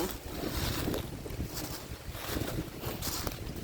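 Strong wind blowing through a forest where leaves are falling, a steady loud roar of rushing air and rustling with gusts that swell and ease, heard alone.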